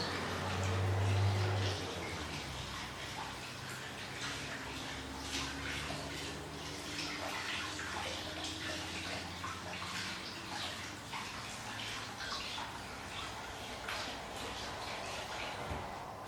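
Running tap water splashes steadily as hands are rinsed, a continuous close hiss of flow with a brief louder low rumble at the start, no talking.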